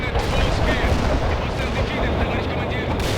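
Artillery guns fire in the World in Conflict war game, a continuous barrage of heavy booms and crackling gunfire that stays loud and dense, with radio-style voices blended in.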